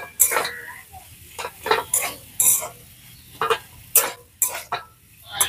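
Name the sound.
mashing spiced potato filling while mixing in a pan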